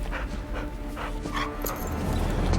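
A dog whimpers and pants close by, its soft whines rising in short bursts against a steady rumbling background.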